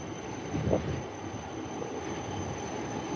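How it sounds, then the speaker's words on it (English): A Hokuriku Shinkansen bullet train pulls into Tokyo Station, heard as a faint, distant, steady rail rumble with a brief swell of wheel noise early on and a thin high tone running throughout. "there's the Hokuriku Shinkansen coming in"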